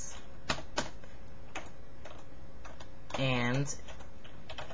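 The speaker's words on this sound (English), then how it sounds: "I'm going to type something" A computer keyboard clicks in a few sparse, light keystrokes at an irregular pace, followed by a short spoken word over a faint steady background hum.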